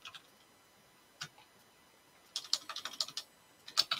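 Commands typed on a computer keyboard, heard as a few isolated clicks and then a quick cluster of close key taps, with brief pauses between them.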